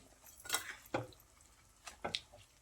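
Rice for a spinach chicken pulao is stirred into chicken in a pot, giving a handful of faint scraping and clinking knocks of a spoon against metal.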